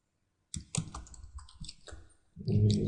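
Keystrokes on a computer keyboard in an irregular, close run of taps, ending in a louder cluster of clicks, with no voices.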